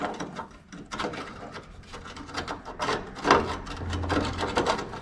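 Stiff bolt holes on an SU-BURB cab are cleaned out with a metal tool, making repeated close rasping, scraping strokes in an uneven rhythm with occasional louder bursts.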